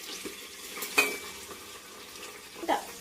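Onions frying in a pan with whole spices such as bay leaf, fennel, cinnamon, cloves and cardamom for mutton biryani, a low sizzle under stirring with a couple of sharp utensil clinks against the pan.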